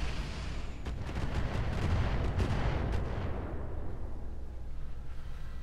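Repeated missile impacts pound a mech in the video game Roguetech, a dense rumbling barrage of blasts and crackling hits that stays loud throughout before thinning toward the end.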